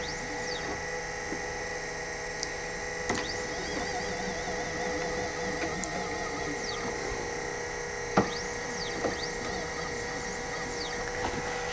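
A small 3018 CNC router carves wood with a steady whine of spindle and stepper motors, continuous mechanical hum with faint sweeping tones and a few sharp ticks, close and unbroken, no talking.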